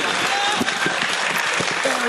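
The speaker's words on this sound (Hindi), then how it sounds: "जोरदार तालियां हो जाए शुरुआत के लिए" Audience at a Hindi kavi sammelan poetry event breaks into loud, dense applause, many hands clapping rapidly together in a sustained burst with a few sharper claps standing out and faint crowd murmur underneath.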